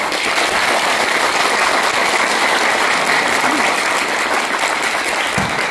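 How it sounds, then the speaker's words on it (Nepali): A large crowd at a firefighters' workshop in Sikkim applauds loudly and steadily, the clapping sustained throughout with no pause. "पहिला त जोरदार थपडी आफ्नो लागि लगाउनुहोस् त"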